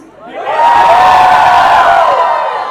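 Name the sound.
crowd cheering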